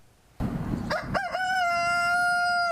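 A rooster crows loud and close, a full drawn-out cock-a-doodle-doo that rises sharply and then holds a long sustained note, heard alone in a city setting where chickens are raised.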